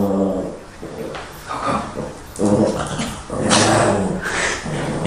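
Two dogs scrapping indoors, trading close, loud growls, grumbles and whimpers in uneven bursts, with no talk over them.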